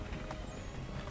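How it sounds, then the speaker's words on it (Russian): Horse hooves clip-clopping in the video game Assassin's Creed III, a steady walking rhythm of hoofbeats heard alone over a low game ambience. "Лошади, кстати, сами везут."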